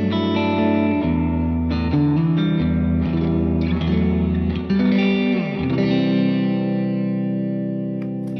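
Electric guitar played through a pedalboard on a small reverb setting, distorted, effects-laden chords ringing out continuously for about eight seconds with a short, tight ambience.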